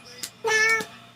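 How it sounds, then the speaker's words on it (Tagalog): A young pet kitten gives a single short, clear meow close by, preceded by a faint soft squeak. "Meow."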